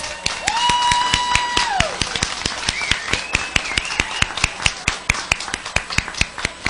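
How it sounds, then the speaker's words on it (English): Students at a school board meeting get another round of audience applause, heard as dense, nearby clapping with sharp individual claps and some crowd sound, while a high tone glides in the background. "can we get one more round of applause for these amazing students?"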